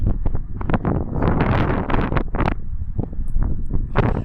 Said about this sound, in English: The wind continues forever.